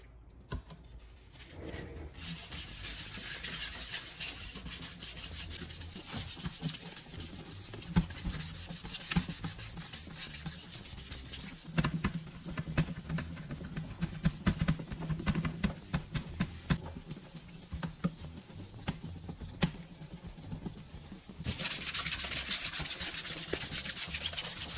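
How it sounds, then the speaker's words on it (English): Headlight lens being wet-sanded by hand with 1500 grit sandpaper in circular motions, a continuous close rubbing scrape that holds steady and grows slightly louder near the end. "switch to 1500 grit sandpaper. This finer grit starts bringing smoothness back. Move in circular motions"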